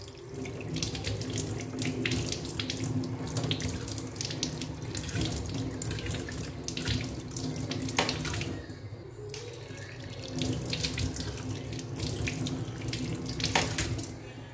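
Water runs steadily through a solenoid-operated automatic tap, a continuous close splashing rush that stays even for the whole stretch with no voices.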